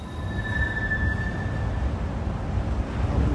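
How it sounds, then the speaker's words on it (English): A train rolls past near fairgrounds with a steady low rumble of wheels and a thin, high wheel squeal that rings for about two seconds, with no talk over it. "With the train coming by."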